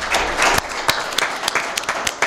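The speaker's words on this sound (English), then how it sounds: "Please give them a round of applause." An audience at a community conversation on the Black image and the media applauds the panelists with a short burst of sharp, close claps whose density rises and falls over about two seconds.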